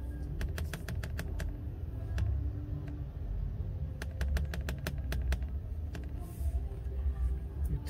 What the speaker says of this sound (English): try to be quick in typing after seeing these settings.